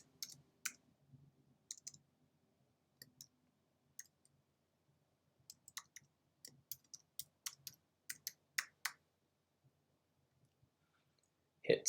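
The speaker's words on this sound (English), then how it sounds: "type in my password" Password being typed on a computer keyboard during a Skype sign-in, heard as sparse, quiet clicks in short irregular bursts with pauses between them, close and alone, ending in a slightly louder tap.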